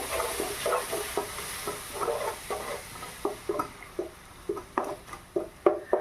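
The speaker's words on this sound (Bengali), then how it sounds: "এবার একটু নেড়ে চেড়ে কষিয়ে নেব কিছুক্ষণ ধরে" Spice masala with turmeric and salt stirred and fried in a pan over medium heat, a soft steady sizzle broken by repeated scraping strokes of a spatula, growing more distinct toward the end.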